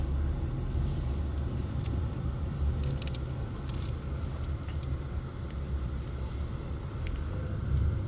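Heavy traffic on a busy main road in Saudi Arabia, a constant low rumble of passing vehicles that stays even and unbroken throughout, with a few faint higher clicks and no talk.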